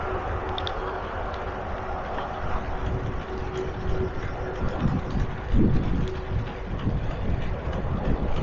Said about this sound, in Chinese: 听到身后高铁通过的呼啸声